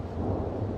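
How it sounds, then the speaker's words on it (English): A deep, low rumble of thunder rolls steadily beneath falling rain in a park during a rainstorm, heavy and sustained with no clear breaks and no voices. "Love thunder."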